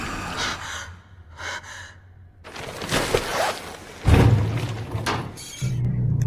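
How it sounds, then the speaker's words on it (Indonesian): A corpse in a morgue in a horror film seems to let out a breath: gasping, sighing inhalations and exhalations come in several bursts among muffled thuds, moderately loud and close, with no talking. "Megan dibuat terkejut karena jasad itu seperti menghela napas."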